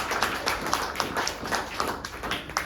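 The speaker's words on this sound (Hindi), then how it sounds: "ओम प्रकाश चौरसिया जी के पास जोरदार तालियां।" Audience clapping at a company business meeting, a steady patter of hand claps with regular rhythmic bursts, moderately close and filling the room on its own without talk.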